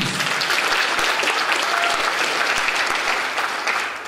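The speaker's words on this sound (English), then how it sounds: "Give him a round of applause." Audience applause at a senior night award ceremony, honoring a student who is absent: steady, dense clapping from a room full of people, sustained evenly for about four seconds before tapering slightly at the end.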